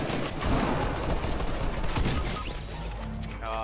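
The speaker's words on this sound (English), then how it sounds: "Hip fire there from Greenway" Rapid bursts of hip-fired gunfire in Fortnite, loud and dense across the opening seconds, thinning out and easing off toward the end.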